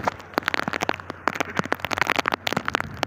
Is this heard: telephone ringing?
no